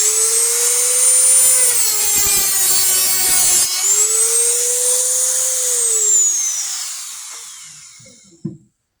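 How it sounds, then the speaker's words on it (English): A Dremel rotary tool grinds down a protruding nail in wood, a steady high whine that dips and rises in pitch as it bites into the metal, close and loud, then spins down and stops near the end. "here's how I fix it with a Dremel"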